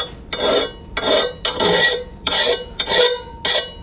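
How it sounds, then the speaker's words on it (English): A hand file rasps across the edge of a lawn mower blade in six long, even full strokes, each a loud gritty scrape separated by brief pauses as the file is lifted and returned. "I'm going to cut that burr off by a full stroke."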